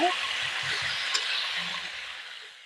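A katla fish head frying in hot oil gives a steady, close, bright sizzle that holds throughout and thins slightly toward the end.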